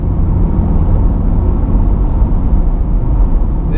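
A 2020 C8 mid-engine Corvette launching at full throttle with launch control, its engine a loud, dense, continuous roar that holds steady throughout without a break.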